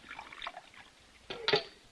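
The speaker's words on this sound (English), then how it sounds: "Pour the coffee." Coffee is poured into a cup, a faint liquid trickle and splash that swells near the end with a brief clink, in a quiet room with no talk.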